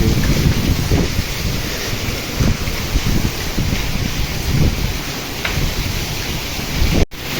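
Strong wind and heavy rain in a summer storm roar steadily with gusty buffeting against the microphone and a constant wash of rain, loud and close throughout.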